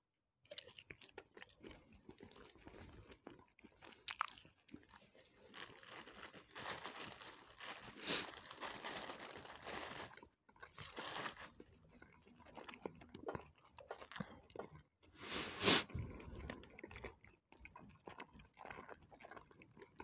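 Close, quiet chewing of sausages with ketchup, with soft wet bites, crinkling and crunching in irregular bursts separated by near-silent pauses, and no talking.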